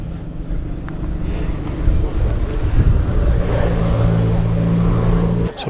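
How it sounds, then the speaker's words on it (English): A Jaguar XK 140's XK engine idles at a breakfast car meet, a steady low burble close by with slight wind buffeting on the microphone and a brief lift in revs midway before settling. "The XK engine burbling away."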